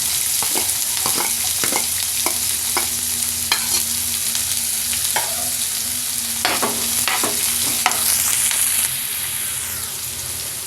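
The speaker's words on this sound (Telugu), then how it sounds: "వీటిని ఎర్రగా వేయించుకుందాం." Chopped onions and green chillies fry in a pan with mustard seeds and cumin, giving a loud, continuous sizzle. A spoon knocks against the pan at intervals as they are stirred, and no one speaks.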